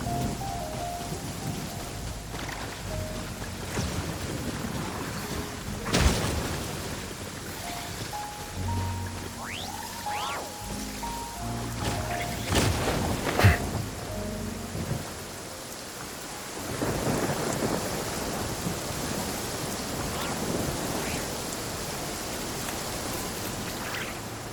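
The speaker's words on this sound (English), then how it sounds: "This heavy rain must be quite an inconvenience for you." Heavy rain pours steadily in Genshin Impact while thunder cracks and rumbles several times, loud and close, with faint musical tones beneath and no talking.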